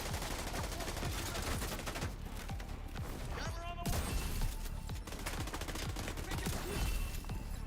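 Dense, close gunfire in The Division 2, rapid automatic bursts and repeated shots crackling almost continuously, with a brief whistling ricochet-like sweep partway through and faint speech underneath.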